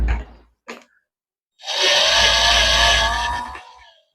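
A cordless power drill works on a deadbolt door lock, giving a couple of short whirring bursts followed by a sustained high-pitched run of about two seconds that winds down, with no talk over it.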